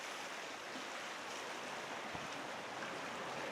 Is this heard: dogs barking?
no